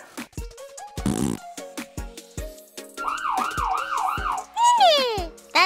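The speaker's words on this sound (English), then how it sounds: "The ambulance goes wee-oo" A cartoon ambulance siren sounds a wavering, rising-and-falling wail amid bouncy children's song music, with a quick upward sweep near the end.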